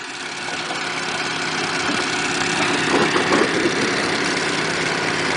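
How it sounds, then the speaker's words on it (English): Engine-driven water pumps fill AquaDam hoses at an airport expansion site in South Lake Tahoe, California. They produce a steady, loud idling drone with a low rumble and some vibration, and no voices are heard. "We've started the pumps up."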